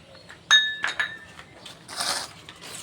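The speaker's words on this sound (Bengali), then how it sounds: "আটা সুজিটা আমি ভালো করে মিশিয়ে নিচ্ছি।" Flour and semolina are mixed in a bowl for homemade biscuits, bright clinks of utensil against bowl followed by a dry, scratchy rustle of stirring, close and moderately loud.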